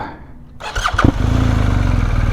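BMW R 1250 GS motorcycle engine cranking with a short whirring starter burst, then catching into a loud, steady, close idle with a rapid even pulse.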